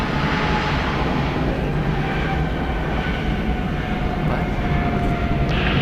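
A 27-year-old Delta Boeing 757-200 jet produces a continuous loud engine rumble with a steady whine layered above, unchanging and close throughout.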